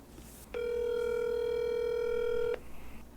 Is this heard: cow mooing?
no